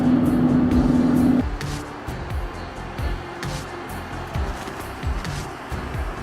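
A Chevrolet TrailBlazer from a junkyard cruises steadily on cruise control, its engine and transmission giving a continuous low drone with road rumble inside the cabin. A louder hum at the start eases into an even cruising tone.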